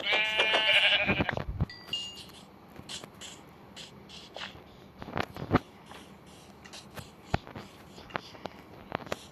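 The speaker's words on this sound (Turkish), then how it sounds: "Bir sürü koyun bulduk" A sheep in Minecraft bleats loudly at the start, followed by quieter clicks, taps and footstep-like sounds with occasional game effects, no talking.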